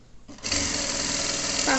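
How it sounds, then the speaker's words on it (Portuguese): Sewing machine running steadily, stitching along the edge of a folded clear plastic bag pocket, a continuous close whirring hum after a brief start-up. "Faço uma costurinha na beirinha, vai ficar assim."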